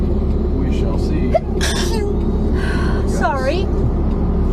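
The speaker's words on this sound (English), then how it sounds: "Excuse my sneezing." A person sneezes inside a moving car during a long cross-country road trip, the brief sneeze bursts rising above the steady low rumble of road and engine noise, with voices talking around them.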